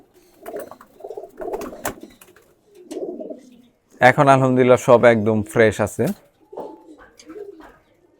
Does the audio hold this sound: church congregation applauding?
no